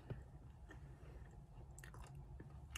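Someone chews a crunchy Valentine's chocolate cup candy, with soft crunches and wet mastication close to the mic, faint and steady for a few seconds.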